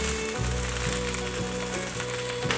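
Iceberg lettuce dropped into a hot pan with half-cooked carrots sizzles loudly and continuously, with faint rhythmic stirring scrapes beneath, no talk.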